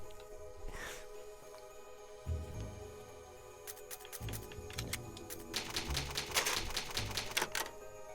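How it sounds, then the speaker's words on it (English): Typewriter in the save room of Resident Evil Remastered, rapid clacking keystrokes building into a dense burst of taps over a low, steady ambient hum, near and clear. "Oh, it's just a typewriter."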